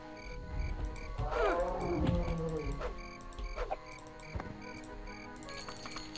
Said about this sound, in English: you heard that wolf howling?